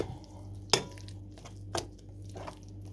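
A utensil stirs a mixture in a bowl, with soft scraping and a couple of sharp clinks against the side, over a steady low hum.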